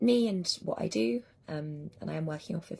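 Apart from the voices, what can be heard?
No everyday noises stand out.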